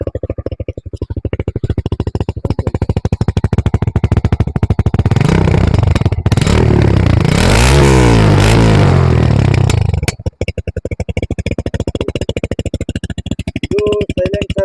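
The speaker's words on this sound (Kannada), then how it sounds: "ಇದು ಸೈಲೆನ್ಸರ್ ಹಾಕ್ಸಿರೋದು. ಈ ಥರ ಇದೆ ಸೌಂಡ್." A basic motorcycle fitted with an aftermarket silencer exhaust idles with a loud, close, steady thrum, then revs up into a harsh roar for a few seconds before dropping back to idle.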